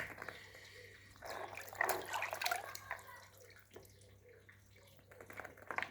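Ingredients for traditional yogurt being washed by hand in water, faint sloshing and dripping that swells in the middle, heard at low level.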